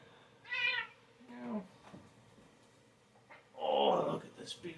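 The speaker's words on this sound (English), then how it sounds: "Oh, look at this beautiful cat." A cat meows several times, close and clear, with the calls spread across the moment and a person speaking around them.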